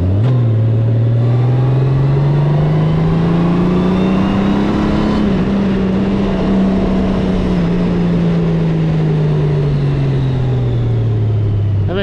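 A Honda Goldwing motorcycle cruises steadily along a road in Berks County, Pennsylvania, its loud, close engine drone holding a continuous hum that rises and falls gently with wind rush throughout.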